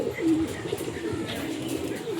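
A male pigeon coos softly among a flock, low rolling calls repeating over steady background murmur; faint chirps from other birds mix in.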